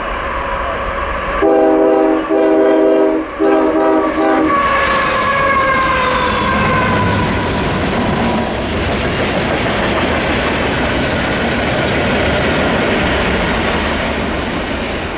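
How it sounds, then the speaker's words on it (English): A long freight train blasts its horn loudly in a few bursts, then the cars rumble and clatter past at close range in a steady, heavy roar. "They even gave us a horn salute."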